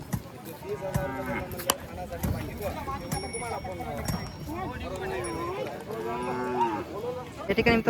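Buffaloes low repeatedly at the Parbhani buffalo market, with drawn-out moos rising over a busy, crowded background where people talk throughout and faint hoof clatter sounds now and then.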